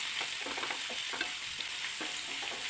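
Coconut pieces fry in a little oil for a beef curry, giving a steady close sizzle broken by soft stirring scrapes and light spoon taps.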